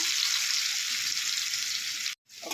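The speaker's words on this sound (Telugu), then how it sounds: "మీడియం సైజు ఉల్లిగడ్డలు తీసుకొని కట్ చేసుకొని వేసుకున్నా ఇవి గోల్డ్ కలర్ వచ్చేదాకా ఫ్రై చేసుకోవాలి" Chopped medium-sized onions frying in oil in a kadai, a loud, dense, continuous sizzle close up that cuts out abruptly near the end, with no talking.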